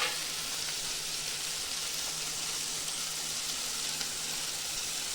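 Ground spices sizzling in reddish frying onions for a butter chicken masala, a dense, steady crackle and hiss heard close up and without pause.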